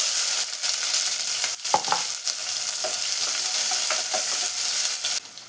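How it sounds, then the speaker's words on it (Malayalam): Two sliced onions frying in coconut oil in a pan for a Kerala-style chicken kurma, a steady close sizzle with occasional stirring scrapes and clinks. "അതിലോട്ട് നമുക്ക് സവാള ഇട്ട് കൊടുക്കാം. 2 സവാള സ്ലൈസ് ചെയ്ത് വെച്ചതാണ് ചേർത്ത് കൊടുക്കുന്നത്."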